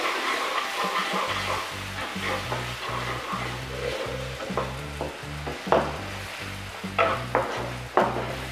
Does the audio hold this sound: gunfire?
no